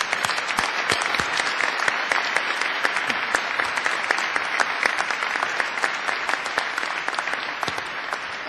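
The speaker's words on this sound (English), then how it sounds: "I think you all deserve a round of applause for being as successful as you've been," Sustained applause from a science bowl audience at a national middle school finals competition, dense steady clapping that fills the whole stretch with no voices over it.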